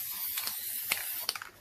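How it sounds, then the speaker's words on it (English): A can of spray paint hissing in short bursts while coating resin coasters, with the rattle and click of the nozzle between sprays, close and fairly loud. "Nice quick results with spray paint."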